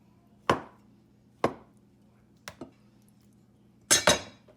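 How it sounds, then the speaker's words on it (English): A knife chops tofu into pieces, striking the cutting board in four separate bursts. The second-to-last is a quick double tap and the last is a louder, closer cluster, with quiet gaps between. "This other half, cut into 3."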